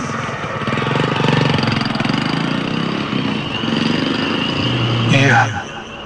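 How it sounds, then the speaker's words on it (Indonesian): A motorcycle engine roars loudly and steadily with a rough, raspy exhaust, revving up in a brief burst near the end before easing off. "Tiba-tiba aku mendengar ada suara motor dengan knalpot yang sangat bising."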